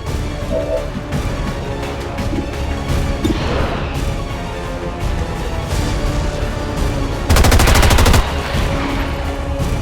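Gunfire rattles through a battle in the video game XCOM 2, loud bursts and single shots layered over dense combat noise, with a harsh sustained burst near the end and no speech.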